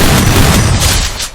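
A loud, heavy gunshot boom from the mobile shooter game Free Fire, marking a headshot. It is dense and close, then tails off over about a second with no voice.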